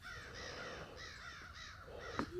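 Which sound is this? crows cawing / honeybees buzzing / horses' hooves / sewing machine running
crows cawing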